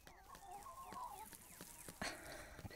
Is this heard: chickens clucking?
yes